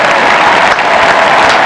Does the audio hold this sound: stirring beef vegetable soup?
no